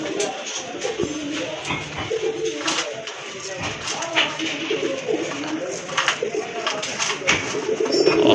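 Pigeons in a collection coo repeatedly at close range, their soft rolling calls mixed with other bird sounds beneath a person talking.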